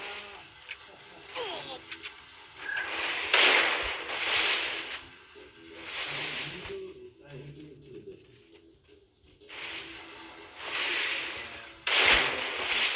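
Gunfire in a competitive video game shooter match, with sharp bursts of shots repeating at intervals, loud and close, mixed with a player talking throughout.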